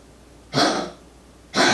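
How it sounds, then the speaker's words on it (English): A dog hacks as it coughs up a hairball indoors: two short, harsh, breathy bursts about a second apart, close by, with quiet in between. "You'll have to excuse our dog is coughing up a hairball."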